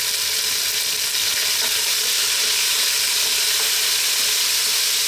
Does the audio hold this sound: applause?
no